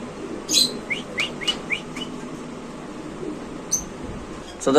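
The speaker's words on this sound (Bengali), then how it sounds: "এখানে আছে একটা বেলভেট শিল কবুতর" Short chirps and soft calls of pigeons, including a Velvet Shield pigeon, repeat in a loose rhythm over a quiet indoor hum, with a louder flutter at the end.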